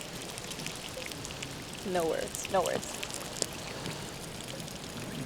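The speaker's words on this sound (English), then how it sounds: "I'm standing on this thing with a waterfall coming out of the sky in this huge cave." Water pours and splashes from a waterfall falling into the vast Son Doong Cave in Vietnam, a continuous hissing rush like heavy rain on rock, with brief voices and a few louder splashes near the middle.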